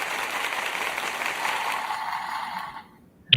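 Audience applause for a guest waiting backstage, a steady wash of clapping that holds for nearly three seconds before fading out, with one sharp click near the end.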